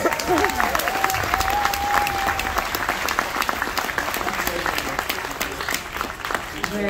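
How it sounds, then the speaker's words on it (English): A crowd of around 900 guests at a live close-up magic show applauds volunteers coming onto the stage. The dense, loud clapping runs throughout while a voice speaks over it near the start. "Big round of applause."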